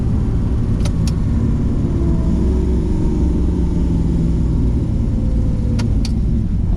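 A car with a swapped-in LS engine, a loud steady engine rumble heard from the road with a couple of brief sharp ticks, recorded from inside the vehicle with no talking.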